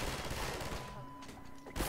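Mounted turret gun firing in a VR shooter game, a dense burst of gunfire filling the short stretch, easing slightly midway before another loud blast at the end.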